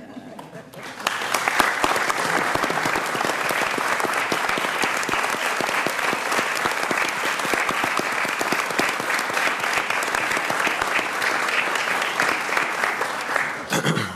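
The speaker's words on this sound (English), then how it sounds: "So, Thom, we applaud you." Loud, dense applause fills a Senate Judiciary Committee meeting room, starting abruptly after a second and continuing steadily with many close, crisp hand claps until it cuts off near the end.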